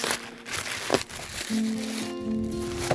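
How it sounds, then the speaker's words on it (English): Packing tape is pulled and peeled off a received mailing package, giving close crinkling and tearing rips with rubbery squeaks, moderately loud, with no one speaking. "Packing tape from mailing item that we received."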